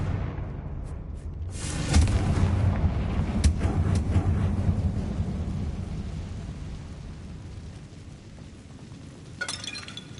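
A Confringo blasting spell in Hogwarts Legacy bursts into a loud booming explosion followed by crackling, clinking debris. The rumble fades slowly over several seconds.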